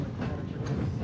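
Steady low rumble of a rail car in motion aboard steam locomotive 611 heading back to Strasburg, with faint rhythmic clatter and no talk.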